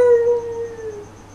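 Holiday toy plays a recorded dog howl, a single drawn-out tonal wail that starts loud and slowly fades, heard alone and close.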